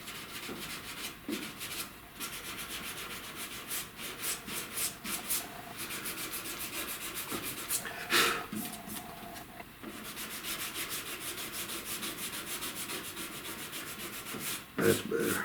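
Steady block sanding across a dented truck cab corner during bodywork repair, a continuous close scraping rub with rhythmic stroke surges and a few sharper scuffs.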